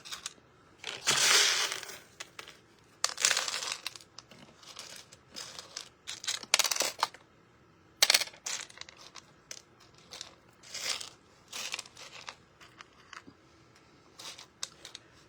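Pieces of reflective glass for foiled Christmas tags are handled in bursts of crinkly, crunchy rustling that come at irregular intervals with quiet gaps between them, close and fairly soft.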